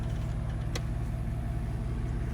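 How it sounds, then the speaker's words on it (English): A 1992 Cadillac Fleetwood with a 4.9-litre V8 idles through its exhaust, giving a steady, even low rumble with one brief click partway through, close up and with no talking. "Just hear that V8 exhaust. I mean, it's just solid and it purrs."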